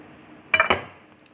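Jerk pork being set into a Pyrex glass dish, giving two quick close clinks of glass against metal in a quiet kitchen.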